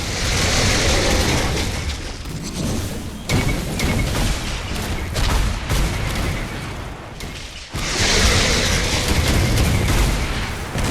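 Explosions and crumbling debris as a barricade falls in the sci-fi strategy game Grey Goo, dense rumbling booms filling the scene loud and continuous, with a brief lull midway before another heavy burst.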